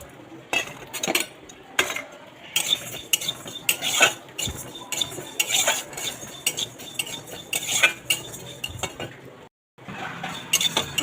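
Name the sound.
mung dal being fried and stirred in a wok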